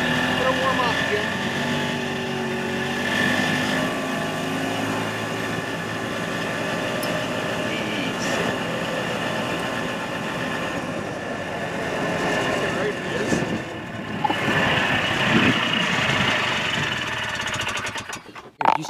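Yamaha G1 Enticer 250 golf cart engine running while it warms up, a steady chugging idle with brief revs, with people talking over it.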